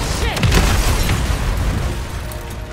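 A proximity mine detonates in a Call of Duty match in Urzikstan, a close, loud boom at the start that rolls into a sustained rumble of game noise, with a voice faintly underneath.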